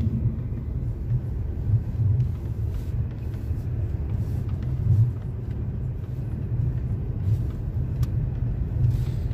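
Steady low engine rumble of a car driving slowly along a snowy residential road with paved streets, a continuous drone inside the cabin with no talk.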